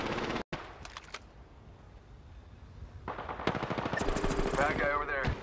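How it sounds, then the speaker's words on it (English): Automatic weapon fire in the Apex Legends shooter game, bursts of rapid gunshots at the start, then a pause and a longer dense stretch of firing that grows louder toward the end. "Opening fire."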